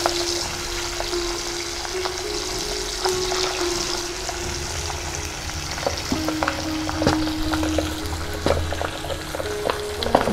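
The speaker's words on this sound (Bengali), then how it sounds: "মাছগুলো আমি তেল গরম করে ছেড়ে দিচ্ছি।" Pabda fish frying in hot oil in a wok, giving a steady close crackling sizzle with scattered sharp pops and spatters throughout, no voices.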